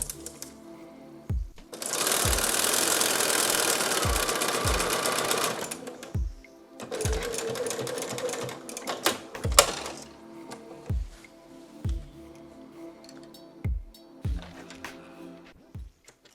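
A sewing machine stitches quilt binding strips in bursts: a loud sustained run, a shorter second run, then quieter intermittent stitching, with sharp thumps of handling the fabric between runs.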